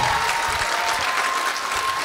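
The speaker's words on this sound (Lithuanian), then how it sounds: "Plojimai, plojimai," Audience applause in a talk show studio, a dense burst of many hands clapping continuously for about two seconds, loud and close.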